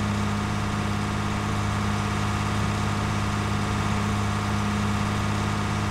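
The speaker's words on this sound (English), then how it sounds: "It's not a bad tractor, this." A tractor engine idles in a survival roleplay video game, a steady low mechanical hum with a constant rumbling drone that holds evenly throughout, with no speech over it.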